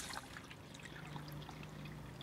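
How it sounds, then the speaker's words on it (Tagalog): A thin, steady stream of water trickles and pours into a pot, quiet and continuous with a low hum beneath. "Lagay lang tayo dito ng tubig."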